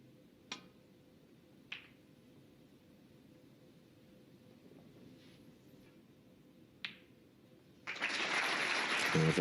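Audience applause breaking out at the Turkish Masters snooker final between Judd Trump and Matthew Selt, a steady broadband clatter starting late after a few isolated clicks and near-silence.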